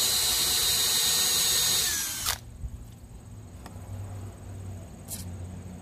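Power saw blade cutting plexiglass, a loud high-pitched whining cut for about two seconds that stops abruptly, followed by quieter handling noise and a couple of brief clicks.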